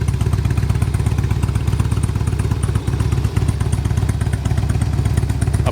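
A 2003 Harley-Davidson Road King Classic idles steadily, its V-twin engine giving a loud, close, rhythmic low-pitched lope that holds throughout without voices.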